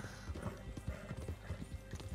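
In the video game Red Dead Online, a horse's hooves clip-clop in a quick steady gait, with a short whinny among them, heard close but quietly.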